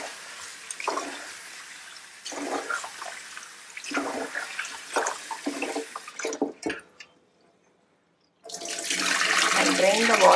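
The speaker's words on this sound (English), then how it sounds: "take this rice and dal. I am going to wash it" Rice and dal being washed by hand in water for thatte idli batter, with sloshing and swirling water in bursts, a brief quiet pause, then a steady louder rush of running water near the end.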